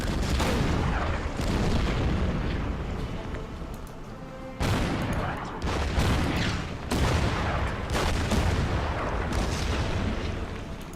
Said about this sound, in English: We could take the town now. Let's bomb it a little bit.